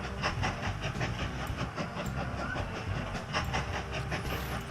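A Wild West-era train in Mashinky rolls steadily out of a station, a continuous rumbling clatter with faint hissing and regular clicks, loud and unbroken throughout.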